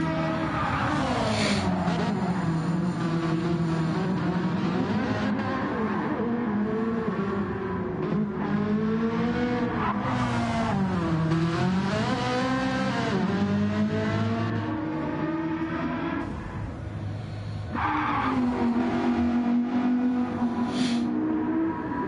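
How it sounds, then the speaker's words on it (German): A Ferrari in a racing video game slides with its engine revving and rising and falling in pitch, loud and continuous for the whole stretch, with no voices. "doch gut am Rutschen mit seinem Ferrari"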